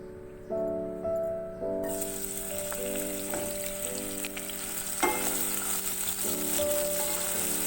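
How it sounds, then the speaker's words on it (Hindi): Onions frying in hot oil in a pan, a steady close sizzle with a few stirring clatters throughout and background music underneath. "एक पैन में ऑयल डालेंगे, ऑयल हमारा गर्म हो जाएगा तो हम इसमें प्याज डालेंगे।"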